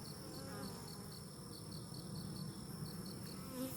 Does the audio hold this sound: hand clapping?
no